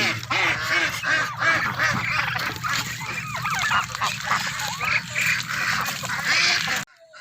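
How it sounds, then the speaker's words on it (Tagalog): A dense flock of farm ducks quacks and honks loudly and close by, many overlapping calls with no pause, then cutting off abruptly near the end. "meron na pong mga bibi at pato na andyan"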